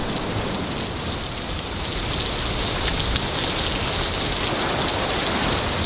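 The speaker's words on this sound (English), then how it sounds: "It did not take long until it was bucketing down." Heavy tropical rain pours down in the Maldives, a dense, steady roar of water hitting surfaces that stays loud and unbroken throughout, with no voices.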